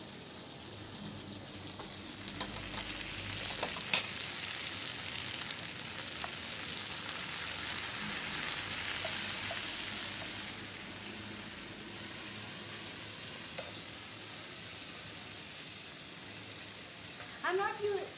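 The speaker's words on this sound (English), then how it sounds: "So let's just wait for it to get grilled." Paneer tikka sizzles on a hot tawa with no skewers, a steady bright frying hiss running throughout at moderate level, with a few faint clinks and shifts near the end.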